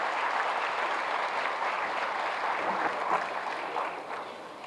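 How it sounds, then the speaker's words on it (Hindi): A large audience at a government appointment-letter ceremony breaks into applause for the chief minister, a dense, continuous wash of clapping that holds steady and then gradually thins. "जोरदार तालियों से स्वागत करें"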